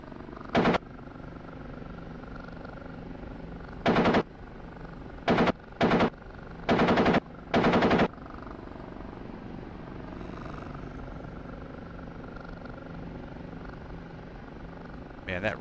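Helicopter cannon in the DCS combat flight simulator, flying an OH-58D or AH-64D over the Afghanistan map while hunting a convoy: six or so short, sharp bursts of fire break over a steady rotor and engine drone.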